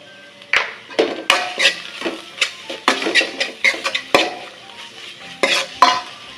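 A spoon stirring watermelon rind halwa in a pan: a series of distinct scraping, clinking strokes in an uneven rhythm, close and clear, with no talk over them.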